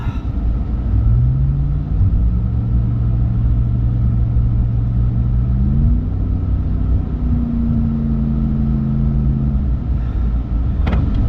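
A car stuck in sand on North Stradbroke Island, tyres at lowered pressure, its engine droning loud and close, climbing in pitch as it revs hard while trying to drive out, then easing off near the end.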